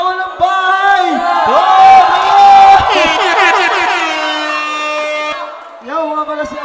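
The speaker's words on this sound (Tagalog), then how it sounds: "malakas na palakpakan at sigawan ng bahay" A rap battle crowd roars with cheers, whoops and shouts, loud and dense, while an air horn blares repeatedly over the noise.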